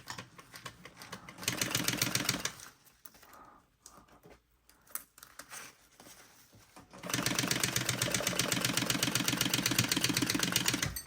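A sewing machine stitches fabric along the seam allowance, running in steady rapid bursts, the first about two seconds long, then a quieter pause with handling noises, then a longer continuous run close by.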